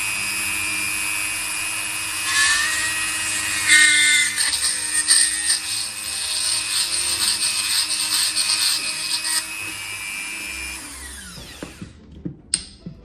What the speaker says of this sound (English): we're going to drill a hole into the center of it using our drill.